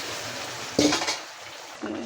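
Flat beans tip into cooked-down masala with dried hilsa fish in a pan: a sudden loud burst of sizzling and clatter that settles into a softer hiss, then a second, smaller sizzle swell.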